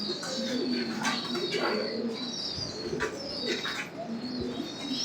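A male fancy pigeon of a pure old bloodline coos in repeated low throaty rolls, close and fairly loud, with faint chirps and a brief wing flutter in the background.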